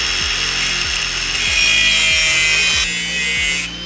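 Exhaust pipe for a 1986 Nissan 300ZX manifold and crossover build, clamped in a vise and cut with steady back-and-forth saw strokes, a loud rhythmic rasp repeating about every half second, with no talking.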